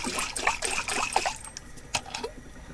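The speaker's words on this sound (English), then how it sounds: "stick a drop of water in that, shake it up" Water is swirled and shaken around a pan holding leftover Indian curry, giving a close, uneven run of liquid sloshes and trickles that fade out near the end.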